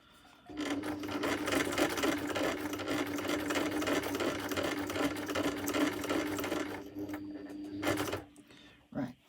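A sewing machine stitching through journal cards and plastic ephemera pockets runs in one long continuous whirring burst close by, then stops, with a short final run before the end.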